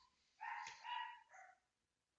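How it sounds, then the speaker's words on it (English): Dogs bark in a short burst of two or three distant barks, faint and muffled against an otherwise quiet background. "could you not with the barking in the final moments of the video?"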